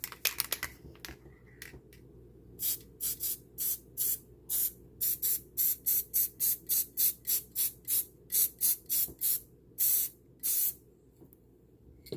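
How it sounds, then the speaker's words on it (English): Rapid, repeated short bursts of spray adhesive hissing from an aerosol can, about two dozen quick pumps in a steady rhythm, close and fairly loud indoors with nothing else in the room. "I take a spray adhesive"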